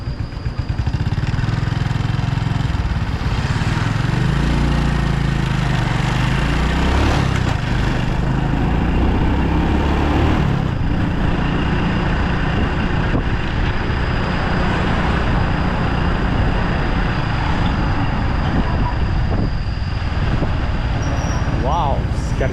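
A motorbike rides through town streets near a market, with a steady engine drone and wind rumble throughout, passing traffic noise around it, and a voice talking over the ride.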